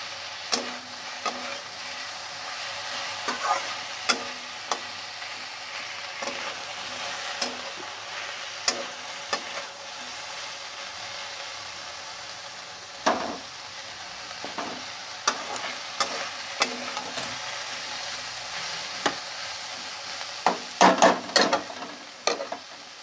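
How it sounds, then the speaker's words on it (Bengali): Potatoes with soya and fenugreek leaves fry on high heat in a pan, a steady close sizzle broken by frequent scraping and clacking stirs, growing busier near the end, with no voices. "এবার জোরে তেজ আঁচ দিয়ে এবার থেকে ভাজবো"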